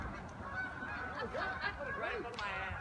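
A goose honks several times outdoors after fireworks on New Year's Eve, hoarse nasal calls in a quick irregular series over a noisy background.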